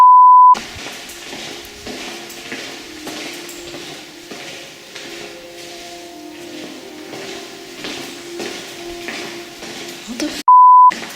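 Upbeat electronic ringtone music plays steadily with a bouncy synth melody, bracketed by short electronic beeps at the start and end, inside Shepton Mallet prison.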